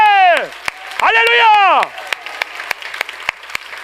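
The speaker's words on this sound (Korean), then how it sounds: "박수 한번 쳐주님께 아멘." During a Sunday morning church service a pastor calls out loudly, then the congregation answers with scattered, uneven hand claps that ring out sharply in the room.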